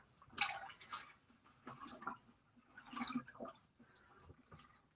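A dyed silk scarf is rinsed by hand in a bucket of water, giving soft, close drips, splashes and sloshing in a few short bursts, quiet and with no talk.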